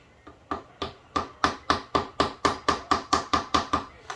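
A crank seal is driven into a 1966 Evinrude 18hp outboard with a drive tool, heard as about fourteen close, even hammer taps with a ringing metallic tone, speeding into a steady rhythm of roughly three blows per second.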